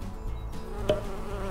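A bee buzzes continuously nearby, with a brief sharp click partway through.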